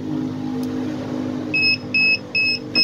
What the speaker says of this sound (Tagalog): So nagkaroon ng buzzer warning.